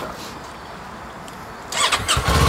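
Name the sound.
Kawasaki Eliminator 500 SE twin-cylinder motorcycle engine starting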